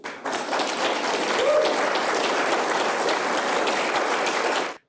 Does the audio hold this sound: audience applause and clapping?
yes